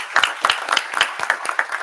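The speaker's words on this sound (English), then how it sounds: "Let's give him a round of applause." A handful of people clap at a university board of supervisors meeting, the claps sharp, close and fairly loud, landing in a quick uneven rhythm with no voices over them.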